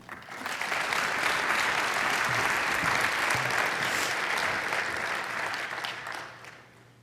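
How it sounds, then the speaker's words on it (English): A conference audience gives a speaker a warm welcome with a dense, steady round of applause that swells in quickly, holds strong for several seconds, then fades out toward the end, with no talking. "Let's all give a very warm round of applause for Ashwini Oruganti."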